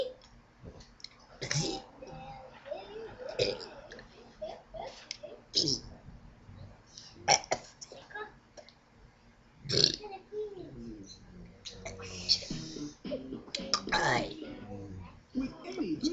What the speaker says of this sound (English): Now I will do Burp ABCs.